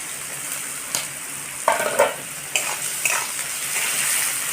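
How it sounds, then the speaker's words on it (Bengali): Chopped onion sizzles in hot oil in a pan with whole cumin seeds and green chilies for a rui fish curry, a steady frying hiss broken by several close scraping stirs, no voices. "পেঁয়াজটা ভেজে নেবো"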